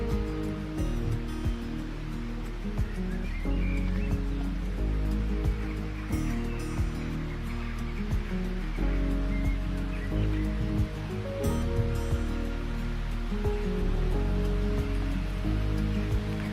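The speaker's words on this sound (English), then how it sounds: "everywhere you can just hear this running water" Steady running water from a stream or falls near Hinckley, a continuous broadband rush that stays loud and even throughout with small surging fluctuations, no voices over it.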